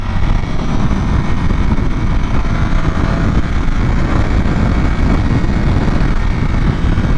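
A 2025 Ducati Panigale V4 with its stock exhaust is ridden along. Its engine gives a steady, continuous low drone mixed with wind rush, with no talking.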